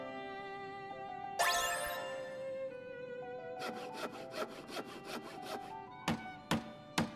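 Wood being sawn to build a flower wagon in the video game Crisis Core Final Fantasy VII Reunion: a run of quick, rhythmic saw strokes, close and clear, over a tinkling game jingle, ending with a few louder knocks.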